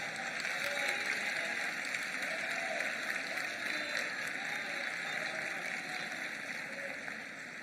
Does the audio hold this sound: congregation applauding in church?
yes